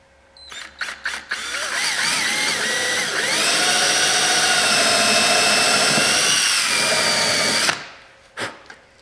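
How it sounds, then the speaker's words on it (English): A power drill fitted with a countersink bit runs in one sustained high whine for about five seconds, its pitch rising as the bit bites, followed by a few short clicks and handling knocks. "It's a drill, and it's got a countersink on it."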